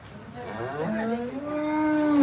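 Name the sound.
cow mooing on a dairy farm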